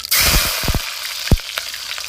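Chopped large onions drop into hot oil already holding mustard seeds, black gram and curry leaves, setting off a sudden loud sizzle that crackles steadily alongside a few sharp stirring knocks.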